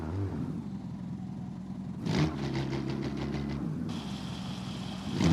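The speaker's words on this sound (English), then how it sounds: "BMW M760 G11." A BMW M760 G11 engine in the BeamNG.drive driving game hums at a low steady pitch, then surges with a brief rev partway through before settling into a brighter, louder drone.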